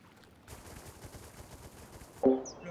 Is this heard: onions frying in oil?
no